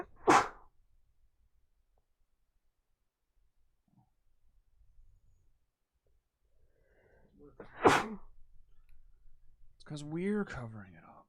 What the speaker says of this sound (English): I'm gonna sneeze, it's coming.